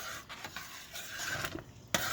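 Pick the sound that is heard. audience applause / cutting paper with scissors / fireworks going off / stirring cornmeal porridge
stirring cornmeal porridge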